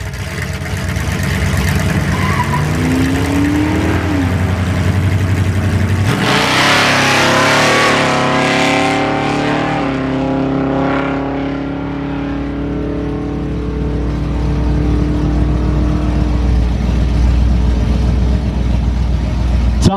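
A 1969 Camaro launches hard down a drag strip, its engine rising from a steady idle into a loud, sustained roaring acceleration with rising pitch, then holding a strong drone as it runs away down the track.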